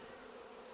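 Dense, steady buzzing of honey bees inside a hive, a continuous faint drone with no talk over it.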